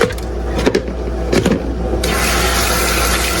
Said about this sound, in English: so here's the fresh new water coming in